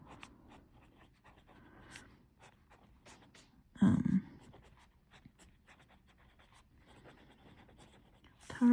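Fountain pen with a medium nib scratching across paper in short strokes, soft and close, with a brief louder knock partway through and a bump at the end.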